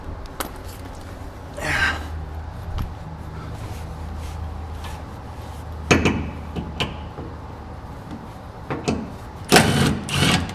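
Socket wrench working loose bolts on a Porsche 944 during an LS engine swap, heard as a few sparse, sharp ratcheting and clanking bursts spread across a quiet stretch.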